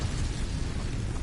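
Casting the Incendio fire spell in Hogwarts Legacy produces a brief, loud, rumbling burst of flame with a heavy low boom that fills the whole moment.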